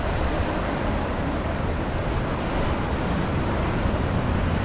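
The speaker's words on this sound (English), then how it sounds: "Look at the waves." Rough ocean surf at Daytona Beach in the aftermath of Hurricane Ian, a dense, steady roar of crashing waves and wind with no voices.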